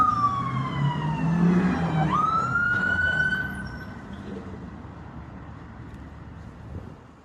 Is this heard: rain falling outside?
no